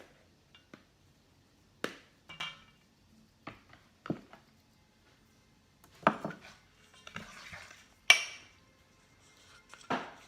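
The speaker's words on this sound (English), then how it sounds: "I'm supposed to add the flour mixture and the buttermilk, beginning and ending with flour" Flour mixture and buttermilk go into cake batter in a bowl, with sparse, faint clinks and scraping taps of a utensil against the bowl, spaced out with quiet gaps.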